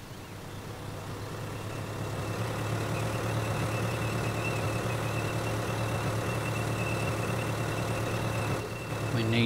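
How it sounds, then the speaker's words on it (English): Ford tractor engine idling in Farming Simulator 2013, a steady low diesel drone that holds at constant loudness throughout with a brief rise near the end. "Start engine."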